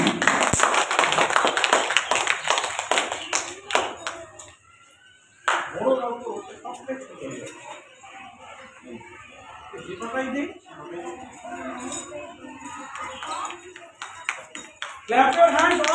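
A group of people clap their hands at a 2025 competition, bursts of dense applause fading and returning, mixed with a voice calling out and children's chatter in the background.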